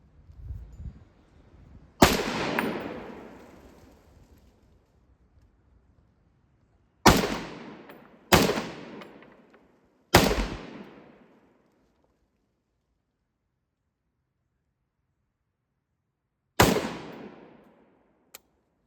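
A Browning Automatic Rifle in .30-06 fires at steel 15 yards away, a few loud, sharp outdoor reports spaced seconds apart, each with a ringing decay, and quiet between them.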